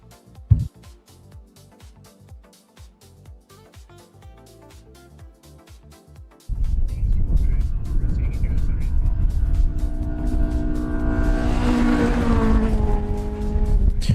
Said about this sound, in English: the red Honda Civic of James Beesing and Travis Harrell. We're watching that thing tear up the desert right now.